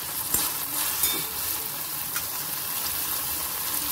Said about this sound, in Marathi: त्याच्यानंतर इथे आपल्याला थोडं मिरची घालायची आहे, म्हणजे मिरचीचा कच्चापण दूर होऊन जाईल।